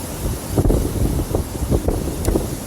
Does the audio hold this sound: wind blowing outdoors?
yes